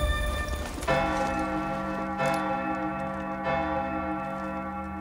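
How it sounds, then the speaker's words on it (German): A church bell rung in the video game Sniper Elite 4, with resonant metallic strikes that swell and sustain into a long humming decay, loud and close over a low background rumble. "Ich läute die Glocke."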